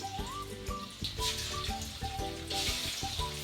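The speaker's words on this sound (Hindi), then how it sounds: "ऑयल गर्म हो गया तो इसमें डालेंगे चिकन" Chicken pieces fry with only salt in hot oil for a Peshawari charsi chicken karahi, a soft, continuous sizzle running beneath louder background music with melodic tones throughout.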